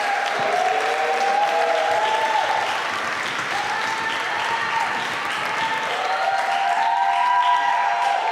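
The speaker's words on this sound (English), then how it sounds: "Please give them a round of applause." Audience applause for a youth media academy team at a live show, steady, full clapping filling the whole stretch, with cheers and whoops rising over it.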